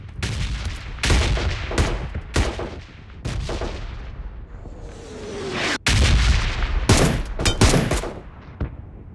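Repeated gunfire in the mobile battle-royale game BGMI, loud close shots in irregular bursts and single cracks, with brief pauses and a faint whistling tone between volleys.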